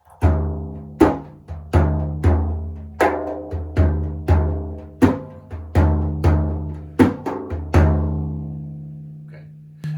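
A hand drum plays the basic darbuka rhythm pattern used in Khaliji music, deep resonant strikes and lighter taps alternating in a steady, repeating groove, close and alone with no talking.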